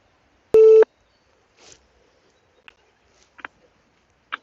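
Telephone line during a call transfer: one short, loud steady tone, followed by a few faint scattered clicks and small noises on an otherwise silent line.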